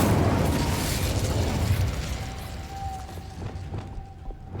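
The Incendio fire spell cast in Hogwarts Legacy makes a loud, roaring burst of flame that slowly fades into a crackling, popping tail, with no one talking.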